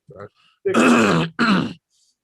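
A person suffering from a pollen allergy clears their throat in two rough, voiced bursts after a small grunt, close to the microphone, with quiet between the sounds.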